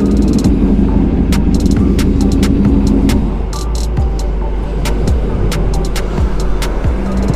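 Kawasaki Ninja 400 motorcycle fitted with an M4 full system exhaust, revving loudly and continuously nearby, with a steady low engine rumble throughout and a brief dip in level mid-clip.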